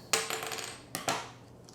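Scissors snip through a strip of color film, two crisp metallic cuts roughly a second apart, each a bright close click with a short ringing tail and no talk.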